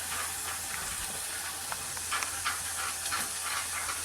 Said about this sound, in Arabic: لازم نفضل نقلب كده لغايه لما تجمد معايا